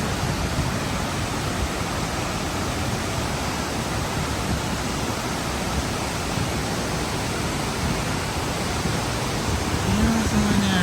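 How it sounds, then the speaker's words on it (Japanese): The steady, full-bodied roar of Fukiware Falls pours down over rock in a loud, unbroken wash of water noise that holds level from start to finish, close and with no pauses. "いや、すごい、ここの滝は。"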